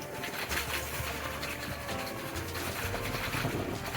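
Crispy fried mathri made from wheat flour and fresh fenugreek is broken apart, giving a faint, close crackling crunch with scattered brittle snaps over a few seconds.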